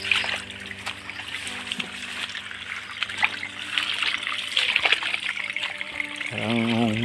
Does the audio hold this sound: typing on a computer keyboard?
no